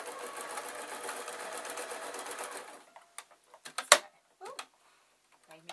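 Sewing machine running steadily while hemming a fabric tissue packet cover, a continuous close whirring stitch for about three seconds that stops, followed by quiet clicks and a few small handling knocks.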